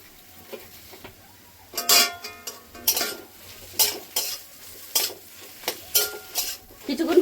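Okra snack with turmeric, salt, chilli and cumin powder fries in a pan, a low sizzle under repeated sharp scraping and clinking strokes of a spatula against the metal, close and rhythmic.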